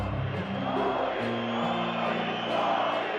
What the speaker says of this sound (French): La foule scande le nom du leader soviétique.